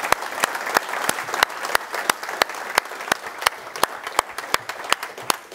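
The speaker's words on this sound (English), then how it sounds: "And let's give Canterbury a round of applause." Steady applause from an audience at a gathering, sharp individual claps standing out in a fairly regular rhythm over a dense background of clapping, sustained throughout at moderate loudness.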